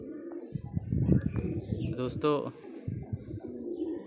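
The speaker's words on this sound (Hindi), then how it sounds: "ये कबूतर है।" Pigeon coos from a male pigeon near a nesting female, low murmuring calls mixed under steady close Hindi speech.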